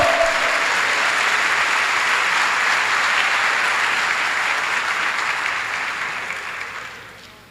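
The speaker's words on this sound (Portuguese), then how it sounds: "Vamos aplaudir ao Senhor?" A church congregation applauds together in steady, dense clapping that stays loud throughout and gradually fades toward the end, with no talking over it.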